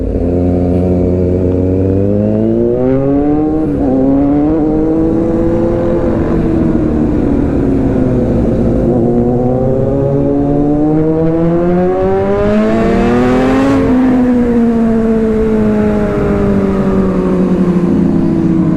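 A superbike motorcycle engine revs loudly and close, its pitch climbing and falling in long sweeps over a sustained roar, with no talking.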